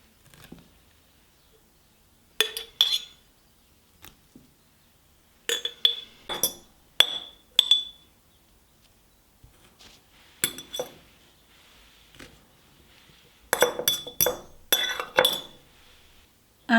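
Glass jars clinking as fennel confit in olive oil is packed into them, scattered bright chinks and taps in irregular clusters with quiet gaps between, close and fairly clear.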